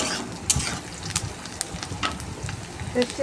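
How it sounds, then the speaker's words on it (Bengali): Spices and onion frying in oil for a chicken dish, a steady soft sizzle with occasional stirring clinks and scrapes, close and moderately quiet. "তেল দিয়ে ভালো করে এখন মশলাটা কষাতে থাকবো পেঁয়াজটা ভাজা ভাজা হওয়ার অপেক্ষা করবো"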